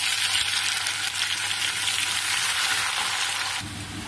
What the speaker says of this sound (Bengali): পেঁয়াজটা দিয়ে একটু লাল লাল করে পেঁয়াজটা ভেজে নেব।